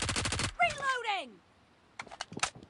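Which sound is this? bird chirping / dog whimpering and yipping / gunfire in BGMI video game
gunfire in BGMI video game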